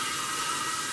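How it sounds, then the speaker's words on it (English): Garlic, onions and ginger sauté over high heat, giving a steady, even broadband hiss of sizzling oil that holds constant and close throughout, with no voices. "I like the saute, you know, all this garlic, onions, and the ginger"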